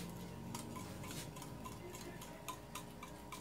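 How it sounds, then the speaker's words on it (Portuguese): Cream stirred into Tang drink mix dissolved in milk, a quiet stream of rapid spoon ticks and clinks against the bowl repeating steadily throughout. "agora eu vou acrescentar o creme de leite. Vou misturar aqui muito bem."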